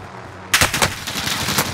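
Rapid gunfire rattles in Call of Duty Warzone, with a sudden close burst of shots that keeps firing in quick succession without a pause.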